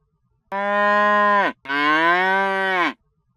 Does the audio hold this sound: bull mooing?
yes